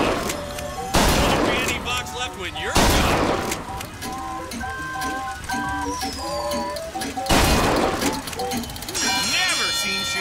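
Gunshots fired at targets in a shooting minigame in BioShock Infinite, a few sharp, loud cracks spaced seconds apart over background music, sound effects and a talking voice.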